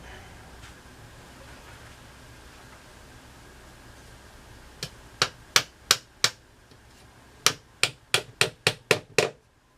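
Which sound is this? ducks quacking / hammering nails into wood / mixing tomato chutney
hammering nails into wood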